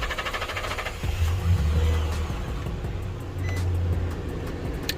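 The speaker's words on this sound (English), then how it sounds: "gonna get the truck crunked up" A truck engine turns over and settles into a low, rumbling idle, loud and close, with the pitch swelling and easing as it runs.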